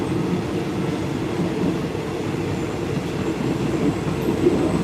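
Passenger train riding the railway to Bangkok, Thailand, heard from inside a carriage: a steady low rumble and rolling wheel noise runs throughout, with faint rhythmic clatter and no speech.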